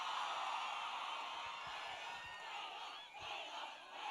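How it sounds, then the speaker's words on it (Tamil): A large audience cheers and applauds steadily at a song anthem launch show for Ponniyin Selvan 2, a dense roar of clapping and shouting that swells and dips slightly but never stops. "ஒரு பெரிய கைத்தட்டல்"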